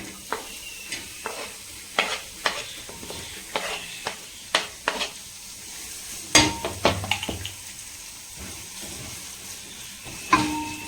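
Onion stirred in hot oil in a pan while cooking a butter paneer gravy: a long run of scraping stirs and clinks that sound close and regular, over a soft sizzle of frying that goes on throughout.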